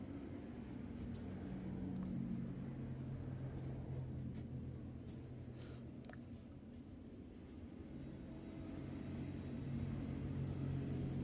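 Pen scratching across paper while a maths problem is written out, a soft continuous scribbling with faint strokes over a steady low background hum, no voices.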